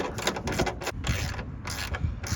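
A socket wrench tightens a 13mm hex bolt on a Cybertruck tailgate, giving a steady run of close, quick ratcheting clicks with small metallic creaks, loud and continuous with no voices.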